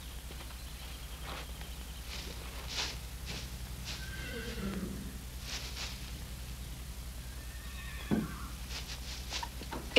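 A young stallion colt whinnies several times, high quavering neighs rising and falling over a steady low background hum, with faint clip-clop and snorts between calls.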